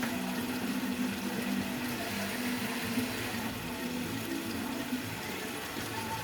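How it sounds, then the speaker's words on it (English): Water being added to a blender jar while making chicken soup, a steady, continuous watery rush that stays at an even level for several seconds with no talking. "Fill a bit of water in there."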